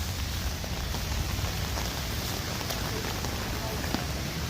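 Rain falls hard in downtown North Bay, a thick, unbroken hiss of drops spattering nearby surfaces, with a few sharper splashes breaking through the steady roar.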